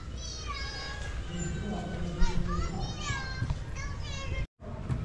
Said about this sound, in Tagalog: Ayun may mga bata na naglalaro